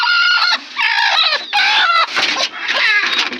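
A desi hen clucking loudly and close, in several drawn-out, throaty calls with short pauses between them.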